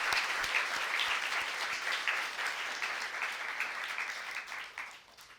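A church congregation claps loudly together at an Epiphany Sunday service, producing dense, sustained applause that slowly thins and fades toward the end.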